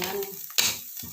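Shallots frying with a splash of water in a pan, a short burst of close sizzling with a sharper hiss flaring midway, then a brief scrape as the pan is stirred.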